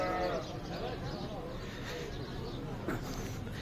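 Sheep bleat at a Lahore livestock market with goats nearby, a loud bleat near the start followed by further calls under steady crowd noise and people talking.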